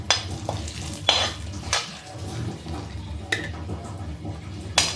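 Ingredients frying in hot oil for gobhi matar sabji, a steady sizzle with a few distinct scrapes and clinks of a spoon against the pan, close and moderately loud, with no talking.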